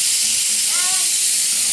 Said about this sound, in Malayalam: ഈ കുക്കർ അടിക്കണല്ലോ, അതെന്നാ?